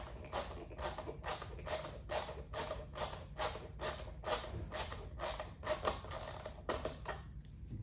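A socket wrench ratchets as it snugs a bolt on a 2022+ BMW K1600B motorcycle during an audio kit installation, giving a steady run of close, crisp clicks in an even rhythm.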